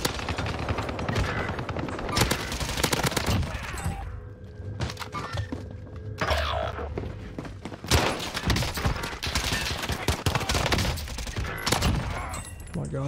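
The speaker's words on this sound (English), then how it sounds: "AK74U is shredding right now." Rapid bursts of AK74u submachine gun fire in the video game Call of Duty Warzone on Rebirth Island, dense and continuous automatic shooting that sounds close, with brief pauses and a few faint voices.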